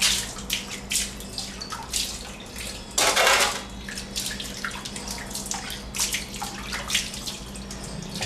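Water seeping slowly through a drain pipe blocked somewhere along its length, a steady low trickle and faint gurgle with scattered drips, plus one louder rushing surge midway before settling back to the slow flow.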